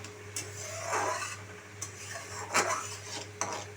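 Fried lentil dumplings and eggplant being stirred into a sour curry, with several distinct scrapes and clinks of a metal spoon against the pot over a low hum, close and moderately loud.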